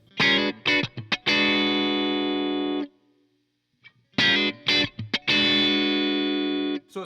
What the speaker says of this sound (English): Here's the tone circuit bypassed.